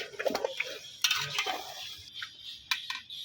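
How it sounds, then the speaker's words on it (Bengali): Beef is stirred into spices in a pot over a wood-fired stove, bringing intermittent metal clinks and scrapes of a spoon against the pot at close range with no talk. "এখন আমার এই যে মাংসটা মিশাই নিলাম মশলার সাথে"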